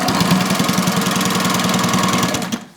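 A sewing machine stitches recycled sail cloth in a fast, steady, loud mechanical whir with even rhythmic pulsing, stopping abruptly at the end.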